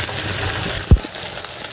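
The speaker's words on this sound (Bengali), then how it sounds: "মাছ ভাজাটা এখন উল্টে পাল্টে দেবো।" Puti fish fry in a pan with a continuous hiss and sizzle, broken near the middle by one short, dull knock.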